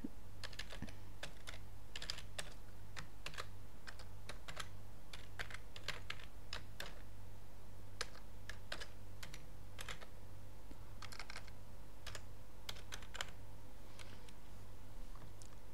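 Someone types an email address on a computer keyboard, giving quiet, irregular key clicks in short bursts over a low steady hum, with no talking.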